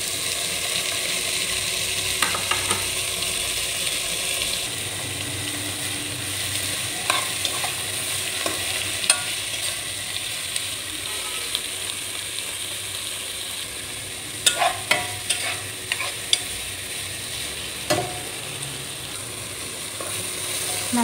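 Chopped tomato and beans sautéing in a pan, a steady hiss of frying broken by scattered spoon scrapes and clicks against the pan, close and continuous.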